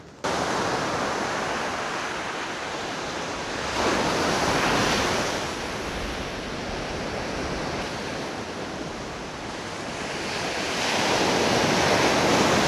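Strong wind roars over the shore at a Uljin fishing spot, with broad rushing noise blending into surf, loud and continuous with slow swells in intensity and gusts buffeting the microphone.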